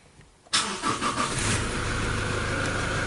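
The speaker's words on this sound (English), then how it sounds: "so we're gonna start the vehicle up." A 2015 Toyota Hilux with a faulty four-wheel-drive transfer case cranks and fires after a half-second of quiet, the engine catching abruptly and settling into a steady close idle, loud and alone.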